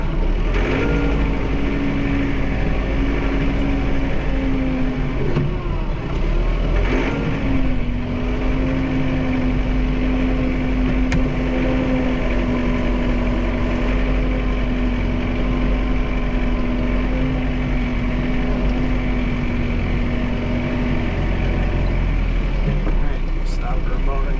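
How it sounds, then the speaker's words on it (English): A John Deere 4052R tractor engine drones up close for the whole stretch as it drives into a garage, with a sustained low hum and a slight dip in pitch partway through as it moves. "I'm just gonna drive the tractor in, and we'll call it a night"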